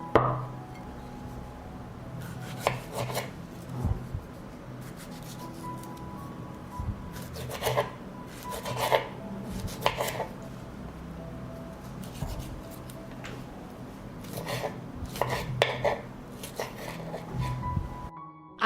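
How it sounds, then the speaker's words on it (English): A knife cuts through tomatoes on a board for a winter vegetable salad, producing repeated close scraping and chopping strokes in irregular bursts, with quiet gaps between them and no talk. "First, I'll cut the tomatoes."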